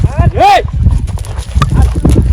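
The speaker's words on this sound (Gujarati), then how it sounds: "ઘોડી આવે છે" A mare's hooves clip-clop on the ground at a gathering of horse riders, a close, uneven clatter mixed with loud voices and a brief high whinny-like call.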